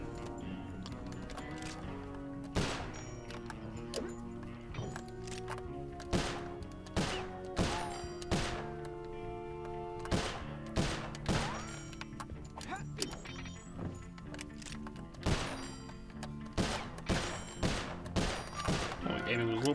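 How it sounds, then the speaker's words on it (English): Gunfire in the Sly Cooper: Thieves in Time video game, in an old-west high-noon setting. Sharp shots crack repeatedly at irregular intervals over looping game music, with occasional talking mixed in. "Oh wait, I can shoot him."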